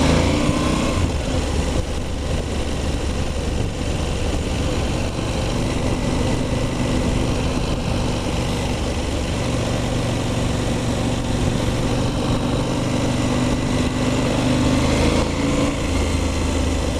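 A KTM 790 Adventure motorcycle engine pulls steadily in first gear on a narrow country road, a continuous loud drone that holds for the whole stretch with no talk over it.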